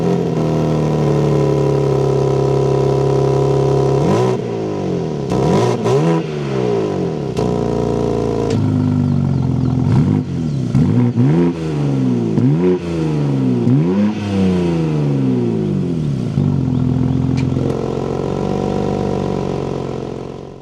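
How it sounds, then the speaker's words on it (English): A 2025 BMW M2 engine idles loud and close, then revs repeatedly in sharp rising and falling sweeps before settling back to a steady idle. "inside the 2025 BMW M2, keep my foot on the clutch, we can go ahead and fire it up."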